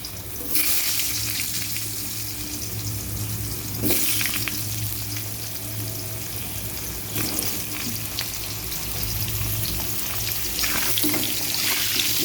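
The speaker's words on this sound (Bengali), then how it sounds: "কড়াইতে শুধু একটু কালো জিরে আর শুকনো লঙ্কা ফোড়ন দিয়ে আলুটা ছেড়ে দিলাম" Potatoes frying in oil tempered with nigella seeds and dried chilli in a kadai, a loud, steady close sizzle with occasional spatula stirs and scrapes.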